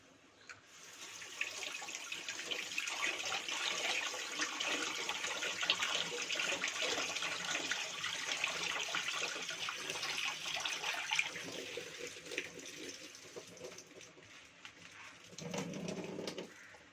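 Tap water runs steadily over fresh mint leaves being washed in a sink, a continuous close splashing stream that lasts most of the time before tapering off near the end.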